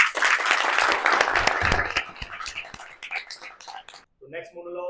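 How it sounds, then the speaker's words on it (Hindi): Audience applause at a monologue workshop performance: a dense, steady burst of clapping for about four seconds that then cuts off as a voice begins speaking. "जोरदार तालियां हो जाए विनीत जी के लिए।"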